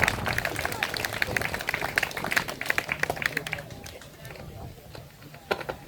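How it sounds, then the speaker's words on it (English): A protest crowd at a migrant camp in Crowborough clapping for a speaker, a burst of scattered close applause that thins out toward the end, with voices talking over it. "that's it, give him a clap."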